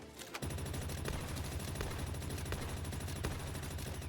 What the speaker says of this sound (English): It was missing me with every single one of those shots.